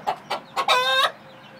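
A leaper gamecock rooster gives three quick, close clucks and then a short, drawn-out squawking call, all loud and clear against a quiet background.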